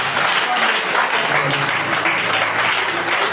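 A church congregation applauds during lively worship, producing a dense, steady wash of clapping from many hands that holds at an even level from start to finish.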